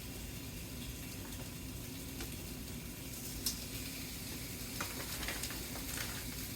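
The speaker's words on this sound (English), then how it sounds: "And then I'm going to put them in the grill pan. And hopefully we hear that sizzle." BBQ pork chops sizzle steadily in a grill pan, a continuous soft hissing crackle with a few faint clicks and pops, fairly quiet and close, with no talking.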